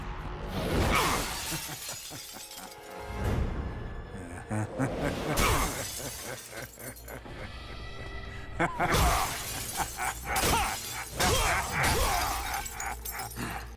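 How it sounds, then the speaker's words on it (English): Mirrors shatter in an animated Batman fight scene, with repeated loud glass breaks and crashes spaced across the stretch, mixed with whooshes and a dramatic score. "This is actually a really cool visual scene with Batman smashing mirrors."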